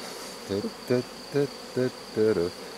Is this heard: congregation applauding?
no